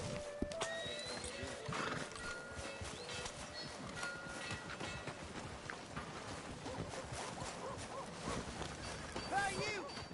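A horse in Red Dead Redemption II whinnies and its hooves clip-clop, set against busy game ambience and faint voices.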